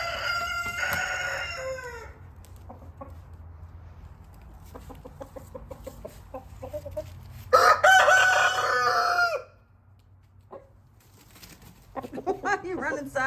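Free-ranging roosters crow outdoors in the rain: a loud, close cock-a-doodle-doo opens the clip and another strong crow rings out midway, with softer clucks and a steady low background between them.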